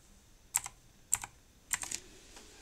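Keys on a computer keyboard are tapped while entering a value into a spreadsheet, in three short close clusters of crisp clicks spaced about half a second apart.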